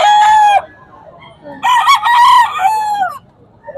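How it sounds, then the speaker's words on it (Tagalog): A prized rooster crows loudly and close twice, the first call short and the second long and drawn out, with faint clucking and quieter sounds between. "Napakagandang manok mga boss."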